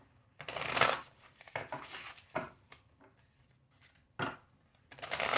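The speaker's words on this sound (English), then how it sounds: "We'll do three more shuffles." Tarot cards being shuffled in several quick riffling bursts, crisp and close, separated by short pauses.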